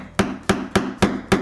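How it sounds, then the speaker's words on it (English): A hammer strikes a metal grommet setter five times in a steady, loud rhythm, setting a grommet into fabric, with each sharp blow ringing briefly before the next. "Now the tricky part is in the hammering."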